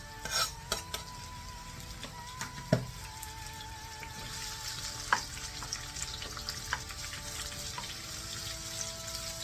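Roughly chopped onions dropped into hot spiced oil for butter chicken, sizzling and crackling steadily up close, with occasional sharp clatters of stirring against the pan.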